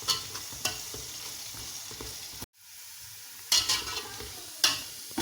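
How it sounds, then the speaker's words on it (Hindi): Onions browning in a pan for vegetable pulao, a steady close sizzle and frying hiss broken by spoon stirs and scrapes, with a brief quiet gap midway before the stirring resumes. "ये देखिए प्याज गोल्डन ब्राउन हो गए हैं।"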